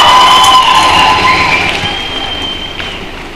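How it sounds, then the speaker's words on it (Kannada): Loud audience applause and cheering fill a stage show as Bigg Boss contestant Dhanraj walks on, a dense steady clatter with a few high whistles that gradually fades over several seconds. "ಬರಕ್ಕೆ ದೊಡ್ಡ ಚಪ್ಪಾಳೆ"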